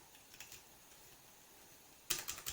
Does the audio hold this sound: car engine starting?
no